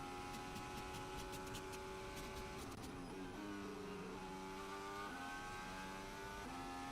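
Formula 1 cars on track during Saudi Arabian Grand Prix qualifying, several high-pitched engine whines rising and shifting through gears, one falling away as another climbs, moderately distant and without talk.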